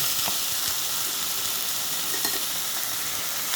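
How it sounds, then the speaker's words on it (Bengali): Marinated chicken goes into a hot pan and sizzles, a steady loud frying hiss with small crackles throughout, no voices. "ম্যারিনেট করা চিকেনটা এবার আমি এর মধ্যে দিয়ে দেব"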